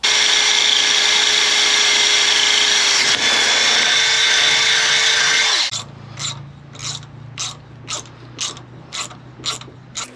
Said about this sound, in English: I'm going to be drilling some holes into this and bolting this on here